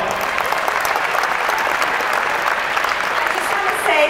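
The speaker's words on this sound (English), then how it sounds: "give a big round of applause for Mrs." A big round of applause from a crowd at a Trans-Siberian Orchestra charity check presentation in Worcester, Massachusetts: dense, loud, steady clapping throughout, with no voice over it.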